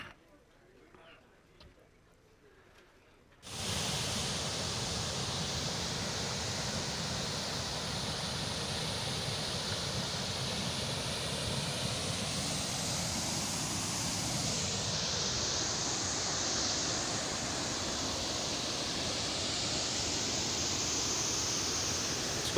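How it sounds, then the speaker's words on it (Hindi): Chuliya waterfall in Rajasthan pours from a height with a dense, steady roar that starts abruptly after a few quiet seconds and holds unchanged, a voice talking over it. "ये जल ऊपर से नीचे गिर रहा है"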